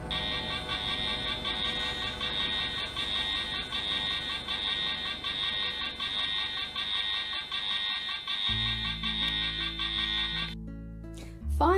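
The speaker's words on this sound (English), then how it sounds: "the Ocean Rescue alarm was raised" A steady high-pitched alarm tone sounds for the Ocean Rescue station in a Fireman Sam cartoon, ringing continuously for about ten seconds, then cutting to low musical notes.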